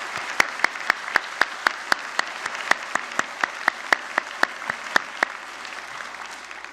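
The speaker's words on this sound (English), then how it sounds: "perhaps you would join me in a round of applause for the graduating class of" Audience applauding a graduating class at a college convocation ceremony, steady clapping with sharp individual claps standing out, fairly close and continuous throughout.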